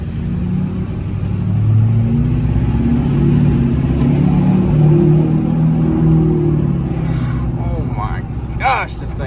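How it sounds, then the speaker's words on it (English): A pickup truck engine rumbles and revs nearby, a deep steady low growl rising slightly mid-clip, with a short bit of voice near the end. "Now listen to this truck."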